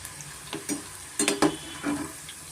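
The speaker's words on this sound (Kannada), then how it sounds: "ಮೀಡಿಯಂ ಫ್ಲೇಮಲ್ಲೇ ಚೆನ್ನಾಗಿ ನಾವು ಫ್ರೈ ಮಾಡ್ಕೋಬೇಕಾಗುತ್ತೆ" Banana flower pakoda frying in oil over a medium flame, with irregular crackling sizzle and a few stirring clatters close by, no voices.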